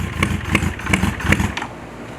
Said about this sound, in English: Oh, this is the cylinder that always hates firing. The bike is not feeling it today.